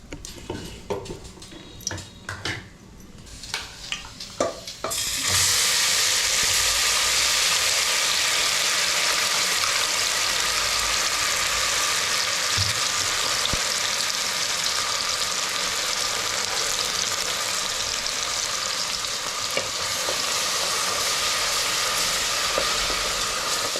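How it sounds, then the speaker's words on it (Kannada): Cloves dropped into hot oil set off a sudden, loud sizzle that holds steady and close, following a few quieter kitchen clinks, for a Mandya-style chicken dish. "ಈಗ ಎಣ್ಣೆಗೆ ಲವಂಗ ಹಾಕೋರೆ."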